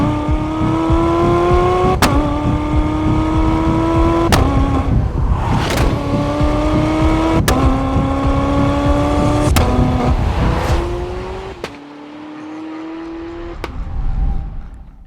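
A Zenvo TSRS supercar engine revs hard and close in a series of rising pulls, each sweep climbing in pitch, with sharp gear-change breaks and cuts between them, then a brief lull before it swells again.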